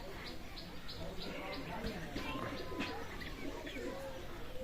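Soft cooing and fluttery sounds from Pakistani Teddy pigeons in a busy loft, faint beneath steady background noise and occasional talk.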